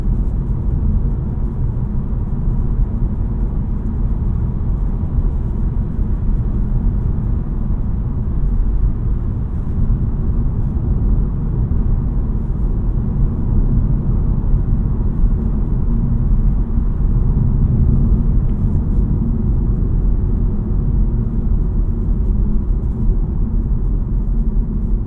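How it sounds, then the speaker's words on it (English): Steady low rumble of tire and road noise inside a 2023 Honda Civic EX 1.5T driven on a rough, noisy road, constant and even throughout with no talking. "take it on one of probably the noisiest roads I know, and then I'll let you listen to the road noise"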